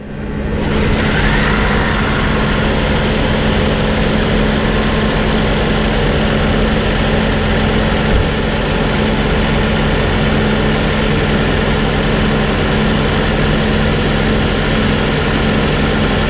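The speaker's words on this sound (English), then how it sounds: "And let's start it and check for any leaks." A 2010–12 Lexus HS250h engine starts after an oil change and settles into a steady, loud idle hum with a low droning tone, running alone without talk.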